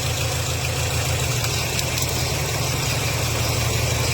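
A car engine idles steadily after its ignition coils were replaced, a continuous low rumble with no clear misfire, heard alone and close.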